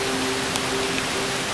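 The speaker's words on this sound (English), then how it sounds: "And it's raining and it's not even bothering me." Steady rain falls beside a river on the Moray coast in Scotland, a dense, even hiss of drops filling the scene without pause and with no talking.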